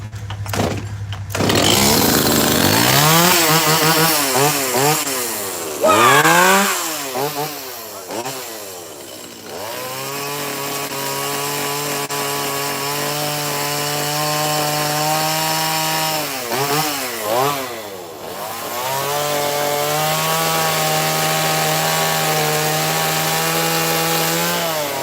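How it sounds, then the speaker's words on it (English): A chainsaw with a freshly sharpened chain carving a wood sculpture, its engine droning steadily with rising and falling revs as the blade bites in, loud and continuous with brief dips in pitch. "And I'm going to use the other saw to do that. The one I sharpened the chain."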